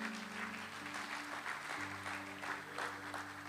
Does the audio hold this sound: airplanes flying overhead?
no